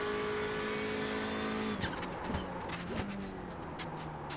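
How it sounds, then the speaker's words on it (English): A Mercedes F1 car in the iRacing sim screams at steady high revs, then the driver lifts off and the engine note drops away into sharp crackles and wastegate chatter, loud and close, with no talking. "And the wastegate, I think it is, when you lift off the accelerator."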